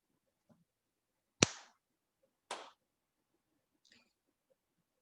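Two sharp, loud hand claps about a second apart, followed by a much fainter third clap, with near silence in between.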